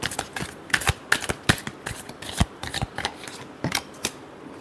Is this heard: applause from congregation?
no